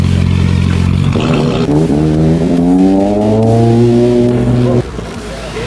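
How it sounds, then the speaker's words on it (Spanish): Rally car engine at the finish line of a Galician rally in Rías Baixas, loud and close, revving and rising in pitch as it accelerates, then cutting off sharply near the end, with faint background noise. "seguimos recibiendo más coches aquí en la línea de meta"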